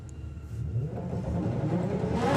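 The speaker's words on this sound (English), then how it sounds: "Cam Bishop is just going to take it easy and wave as he drives by" A drag racing car at a Doorslammers event drives by at an easy pace, its mid-range engine note swelling steadily louder and closer with a rising whir.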